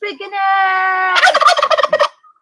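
Turkeys give a loud, close call: a short yelp, then a sustained reedy tone that breaks into a rapid, rattling gobble of quick bursts before cutting to silence. No voices.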